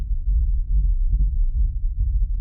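A deep, rumbling low-end drone pulses continuously and heavily, with no bright attack on top, like a heavily processed hard groove rumble kick drum.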